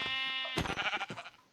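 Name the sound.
sheep bleating in the video game Minecraft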